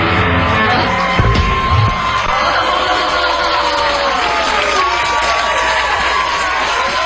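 Studio audience at a Rock and Roll Circus TV taping, a loud dense crowd roar of cheering, whoops and yells that holds steady the whole time, with a brief low thump near the start.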